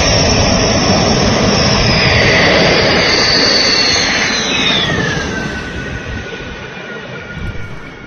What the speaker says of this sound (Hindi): आज दोपहर 3:10 पर अंबाला एयरबेस पर राफेल जेट्स की लैंडिंग शुरू होते ही